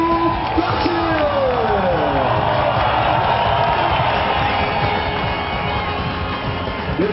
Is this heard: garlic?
no